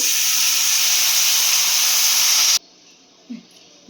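A loud, steady steam hiss as a glass of water is poured into a hot pan for egg soup, cutting off abruptly, followed by near silence and a faint knock.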